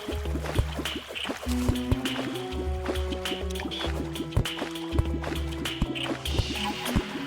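Water dripping and trickling in the Terraria video game during Master Mode play, a dense run of small drips and splashes over a steady low rumble of game music, continuous and fairly loud throughout.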